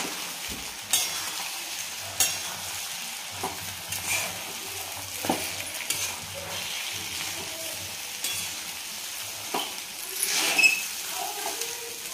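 Sabudana khichdi with fried peanuts is stirred in a pan: repeated scraping strokes of a spoon against the pan over a soft sizzle, with a few louder clinks.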